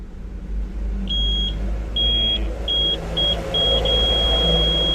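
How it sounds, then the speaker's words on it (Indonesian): A homemade cable and switch tester's buzzer beeps in several short, high-pitched tones of uneven length, the last one held, over a steady low rumble nearby. "Ini buzzer berarti bagus ya, baterai juga bagus."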